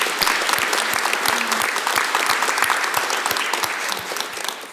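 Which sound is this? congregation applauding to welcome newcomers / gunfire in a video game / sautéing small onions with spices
congregation applauding to welcome newcomers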